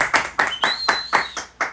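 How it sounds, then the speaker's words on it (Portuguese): A small group claps to welcome a guest on a podcast, with six or seven separate bursts landing roughly every quarter second, close and fairly loud, plus a thin whistle-like tone through the middle. "Salve de palmas!"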